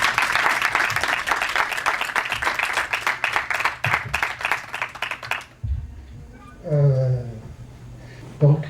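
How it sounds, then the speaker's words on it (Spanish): An audience applauds a film director at a screening event in Buenos Aires, with dense steady clapping for about five seconds that stops abruptly, followed by a brief voice and room murmur. "nuevamente un aplauso para el director que nos acompaña esta tarde"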